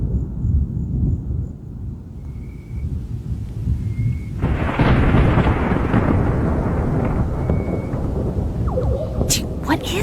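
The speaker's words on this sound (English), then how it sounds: "I have never heard thunder like that." Loud thunder in Florida rolls and rumbles continuously through the air outdoors, swelling into a heavier roar midway, with faint distant tones and soft background noise.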